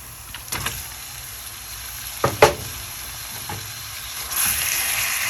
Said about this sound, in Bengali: তো এখন এই মাংসটা খুব ভালো করে কষিয়ে নিতে হবে